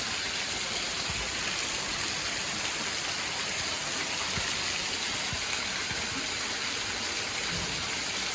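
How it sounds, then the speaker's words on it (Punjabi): Heavy rain pours down steadily, filling streets and drains, a dense continuous hiss of falling water with occasional heavier splashes close by and no voices. "ਦੇਖੋ ਕਿੰਨਾ ਜ਼ਿਆਦਾ ਮੀਂਹ ਆ ਗਿਆ"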